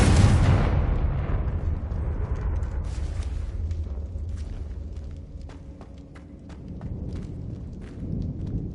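A Confringo spell explosion in a Harry Potter video game opens with a loud, deep boom that decays into a long rumble, followed by scattered small crackles and debris sounds with no talk.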